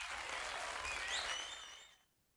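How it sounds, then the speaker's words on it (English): Applause sound effect: a dense wash of clapping from a crowd, steady and moderately loud, with a few faint whoops over it, then tapering off quickly to silence. "Applause"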